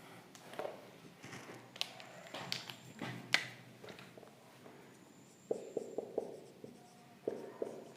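A teacher writing on a board in a classroom, faint scratchy strokes and sharp taps of the marker or chalk coming in short irregular bursts against a quiet room.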